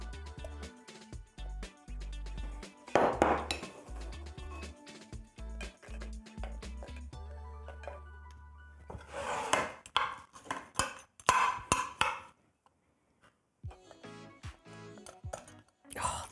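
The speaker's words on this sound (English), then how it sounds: "as I'm scooping the crisp, I have to kind of crack through that crisp topping" A spoon scooping apple crisp trifle and cracking through the crisp topping, with scraping, crunching and clinks of a utensil against a container in bursts, then a short silence and a few quieter scrapes.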